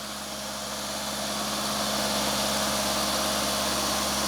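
A vehicle engine held at about 2,000 RPM gives a steady, loud drone with a constant low rumble, building slightly at first and then staying even, with no voices.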